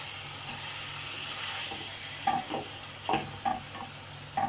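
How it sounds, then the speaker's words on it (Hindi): Minced meat frying in oil with garlic in a pan, a steady hissing sizzle close by, with several brief scraping stirs toward the end. "अब मैं इसमें 1 मिनट तक इसको भूनते हैं लहसुन के अंदर और ऑयल के अंदर"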